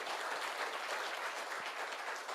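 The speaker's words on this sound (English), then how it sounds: "I accept this applause on behalf of those brave commandos" An audience at a lecture on the Indian military by Lt. Gen. Satish Dua applauds. Steady, dense clapping from many listeners continues at a soft, even level throughout, with no speech over it.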